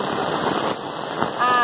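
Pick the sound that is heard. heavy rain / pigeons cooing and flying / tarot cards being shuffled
heavy rain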